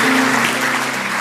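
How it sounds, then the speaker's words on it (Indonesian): A church congregation claps for Jesus during a worship service, a dense, loud wash of applause filling the whole brief moment with no pause. "Kasih tepuk tangan untuk Tuhan Yesus."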